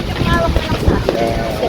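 Night wind buffeting the microphone beside Sampaloc Lake, a steady loud rumble and rush with people talking under it.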